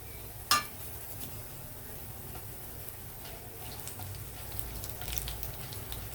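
Garlic frying in oil with chana dal in a pan, giving a soft, steady sizzle throughout with one sharp tap near the start and no talking.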